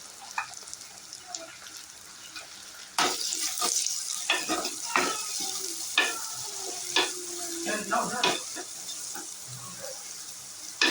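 Onions and curry leaves sautéing in a pan for a Tamil fisherman-style crab curry give a close sizzle with repeated scraping stirs and clinks, irregular in rhythm, with no talking.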